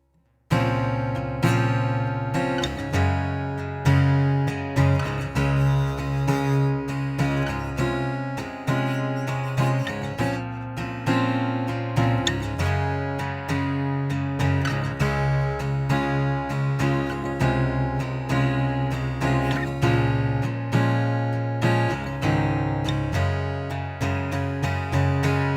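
Guitar plays the bridge of a song, steady strummed chords with a low bass line in a continuous, even passage, loud and alone without any talking.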